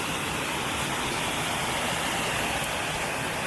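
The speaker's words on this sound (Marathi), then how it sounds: "चार ते पाच फुटाचा वॉटरफॉल आहे फक्त लहानच्या लहान एकदम छोटा" A small four-to-five-foot waterfall in the rainy-season countryside of Konkan, pouring as a steady, dense rushing roar that stays close and even throughout, with no voices.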